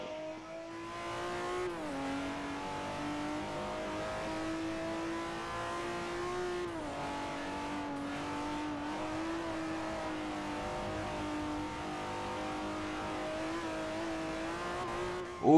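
A BMW M3 in Forza 4 holds a steady, droning engine note during a drift, with the pitch dipping and rising as the throttle shifts, loud and continuous with no talk.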